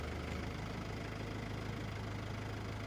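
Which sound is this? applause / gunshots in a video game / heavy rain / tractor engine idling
tractor engine idling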